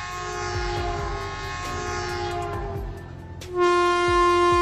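An Indian Railway locomotive horn blows loud and close as a sustained tonal blast, breaking off briefly and then returning stronger, with the low rumble and rhythmic clatter of the train underneath.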